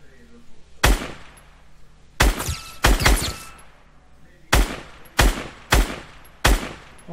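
Sharp gunshots from the video game Fortnite ring out one at a time at irregular intervals, a couple in quick pairs, loud and close with short decaying tails.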